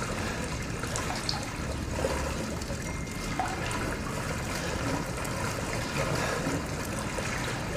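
Constant flowing water trickles and splashes at a steady moderate level throughout a scene in the video game Resident Evil Biohazard, with no pauses.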